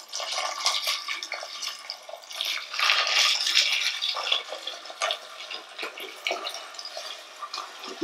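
Water pours steadily into a roomy cooking pan, 1.5 litres in all, a continuous splashing, trickling fill heard up close with no talking.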